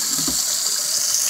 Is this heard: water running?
yes